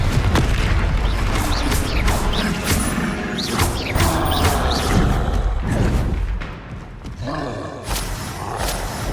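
A Confringo fire spell in the Hogwarts Legacy video game lets off explosive blasts during a dense spell battle. The booms and crashes are loud, close and almost continuous, layered over heavy rumble and clatter.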